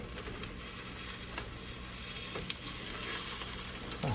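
An egg white and spinach omelette sizzles steadily in a frying pan, a soft continuous crackle with a brief clatter as it is flipped.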